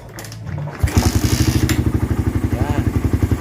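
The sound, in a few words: Suzuki Raider R150 motorcycle engine starting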